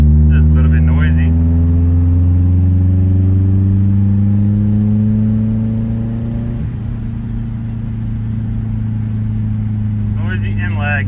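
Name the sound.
turbocharged BMW E36 with K24 engine swap driving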